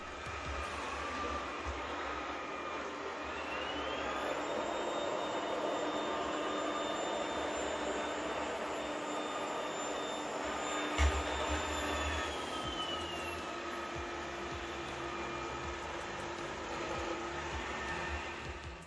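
An Ecovacs Deebot X1 Turbo robot vacuum whirs steadily as it cleans, its motor whine rising in pitch as suction power increases, holding there, then dropping back, with no voices.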